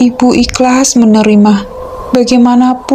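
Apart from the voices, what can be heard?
None of the usual background noises is heard.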